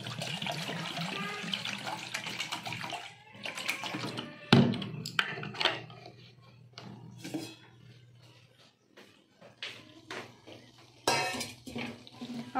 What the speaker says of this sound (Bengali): এই যে আগে বসিয়ে দিই চাটা